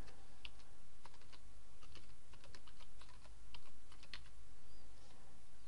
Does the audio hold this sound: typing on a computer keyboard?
yes